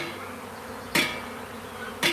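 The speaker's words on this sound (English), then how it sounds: "I'm standing out here in a cloud of bees." Honeybee swarm buzzing outdoors, a dense steady hum of many bees close around, with two brief louder bursts as bees pass near.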